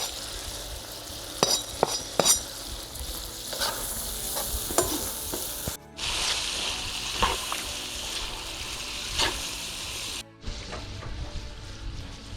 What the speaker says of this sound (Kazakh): жақсы бізде қуырылып жатыр етіміз